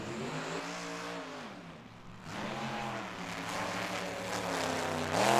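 A nitro-burning fuel altered drag car roars through a burnout at a dragstrip, a loud, harsh engine note whose pitch rises and falls, dips briefly, then climbs again with a heavy, sustained throttle.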